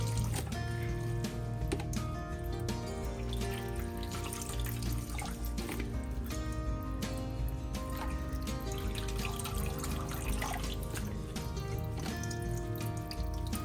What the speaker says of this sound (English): Strain the water.